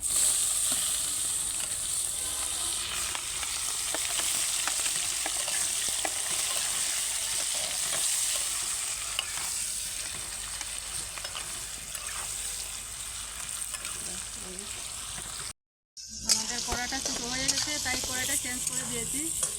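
Whole garam masala and chopped onion frying for chicken dum biryani, a steady close sizzle and hiss with occasional stirring scrapes throughout and a brief cut near the end.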